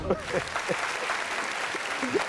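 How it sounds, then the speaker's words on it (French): Studio audience on a French-language entertainment show applauding, a soft, steady patter of clapping heard under a speaking voice, moderately distant and fairly quiet. "on applaudit"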